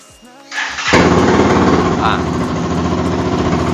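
A used 2020 motorcycle engine in a dealer's garage cranks with a brief starter whir, catches, and settles into a loud, steady close-up idle with an even rapid pulse.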